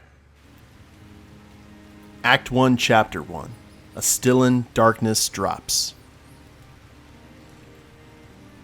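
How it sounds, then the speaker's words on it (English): Steady rain falls in the noir stealth video game Calvino Noir, a soft continuous hiss in the background while a narrator speaks over it for a few seconds. "Biblical rain pummels the city, but the stains remain."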